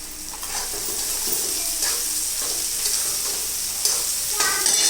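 Green garlic tossed into roasted onions in a hot pan, frying with a steady close sizzle and repeated scraping stirs throughout, no talk.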